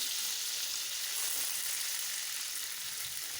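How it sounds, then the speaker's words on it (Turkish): Butter melting in a pan for menemen, a Turkish tomato and egg dish, giving a steady close hiss and crackle of sizzling that runs unbroken and fairly quiet, with no talk. "Şimdi bu aşamada yarım yemek kaşığı kadar tereyağını bu şekilde eritelim."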